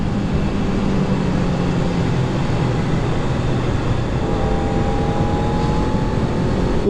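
Rasping engine note from a Honda CBR600F sport bike at riding speed, with tonal lines shifting in pitch midway through, all under steady wind rush.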